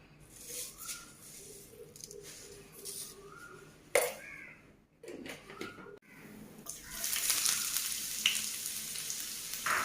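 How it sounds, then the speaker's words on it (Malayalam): Mustard seeds sizzle and splutter in hot oil for tempering a jackfruit-seed and mango curry. A close, crackling fry with a few sharp pops grows louder toward the end. "ഇനി നമുക്കിതിലേക്ക് കടുക് പൊട്ടി ചേർക്കാം"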